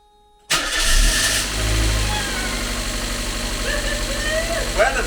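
A Mazda MX-5 engine, freshly installed along with an automatic gearbox, cranks and fires into a loud, close, steady idle with a slight tappy edge, and people speak briefly over it.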